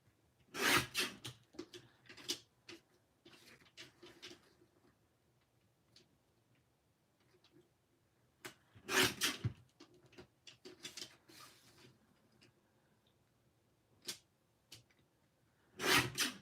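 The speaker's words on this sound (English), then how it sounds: "I'm trimming this down to 4 by 5 1/4." Card stock being trimmed down for a paper craft card, with scattered dry scraping and clicking strokes from the cutting, some louder sharp bursts, spaced out over a quiet background with no talking.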